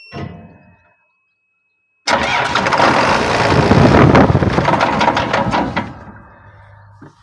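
A John Deere 2264 combine harvester is being started while a solenoid is held up by hand. After a brief noise and two seconds of silence, the engine cranks and catches with a loud, rough roar close by, then drops to a lower hum.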